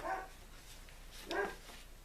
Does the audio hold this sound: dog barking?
yes